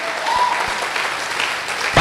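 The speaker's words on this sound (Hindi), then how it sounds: "मैं चाहता हूं महागुरु जी के लिए दमदार वाली ताली होनी चाहिए।" An audience at a motivational business gathering breaks into loud, sustained clapping that fills the stretch, with a brief voice audible near the start.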